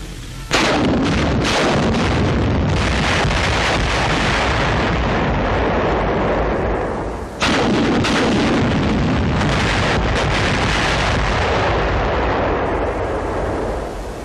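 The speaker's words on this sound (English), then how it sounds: "10 rockets are fired at the pillbox." Ten rockets launched from a Sherman rocket tank strike a Japanese pillbox, a continuous loud roar of blasts and explosions with a sharp fresh burst midway, dense and rumbling with no talk.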